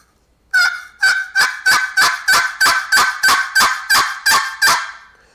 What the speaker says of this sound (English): So a box call, you get basically your two basic sounds, your cuts